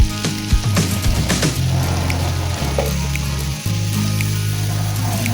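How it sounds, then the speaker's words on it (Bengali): Grated carrot sizzles in melted butter in a pan, a loud, close, steady frying hiss with occasional scraping stirs and a low hum beneath, and no voices. "এখন আমি কুচি করে রাখা গাজরটা এর মধ্যে দিয়ে কিছুক্ষণ ভেজে নেব।"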